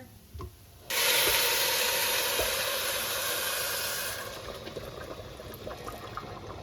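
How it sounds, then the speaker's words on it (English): Water pours into a hot pot while cooking Bangladeshi polau, with a sudden loud hiss and sizzle that holds for a few seconds, then fades into a soft bubbling. "Pouring in the water."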